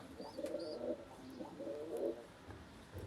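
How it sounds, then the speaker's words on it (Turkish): Pigeons coo softly in repeated throaty bursts, several birds overlapping at close range with faint chirps above. "Kuşlar da manyaklaştı"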